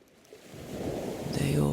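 Ocean waves swell and surge, building louder over the short stretch into a full rushing wash of surf.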